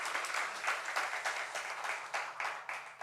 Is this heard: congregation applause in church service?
yes